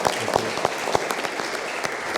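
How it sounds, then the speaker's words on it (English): Applause for guests at the close of a talk about architecture, a steady patter of clapping with a few sharp, close claps standing out over the crowd. "I'm still clapping"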